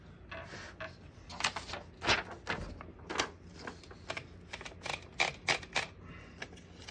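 Mechanical clicks and clacks come from the margin stops being pushed and slid along the back of the carriage of a 1955 Underwood Universal portable typewriter, a close, uneven series of sharp knocks and rattles.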